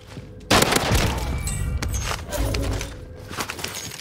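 Loud, close MP40 submachine gun fire in Call of Duty: Warzone, a sudden burst followed by sustained rapid shots and further gunfire, with no talking.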